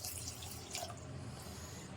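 Half a cup of water poured into a pan holding half a cup of sugar while making a milk-powder sweet, a faint, steady splashing trickle throughout with no talk.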